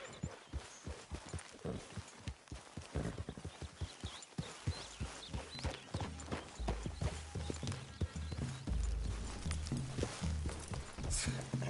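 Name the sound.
horse hooves clip-clopping in a video game, Red Dead Redemption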